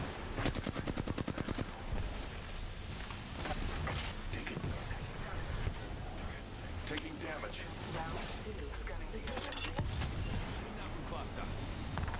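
Rapid bursts of gunfire from the battle royale shooter Apex Legends, a quick stuttering volley opening the stretch followed by scattered shots and clattering weapon handling, with a voice talking over the action.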